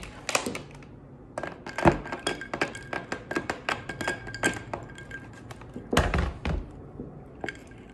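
A tequila, pineapple juice and Red Bull cocktail gets stirred, giving a steady run of close glassy clinks and dull thunks, uneven in rhythm, with a heavier clatter near the end and no talking.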